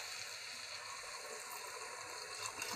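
Water running steadily into a cooking pot as tomato, ginger, onion and pepper cook, a constant quiet hiss without a break and no talking over it.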